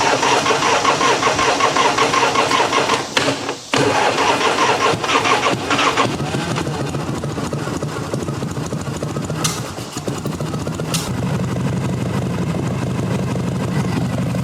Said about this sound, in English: It's time to wake it up.